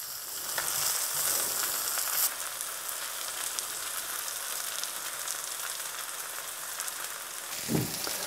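Calf liver frying in a hot pan, Berlin style, giving a loud continuous rain-like sizzle, with a brief low thump near the end.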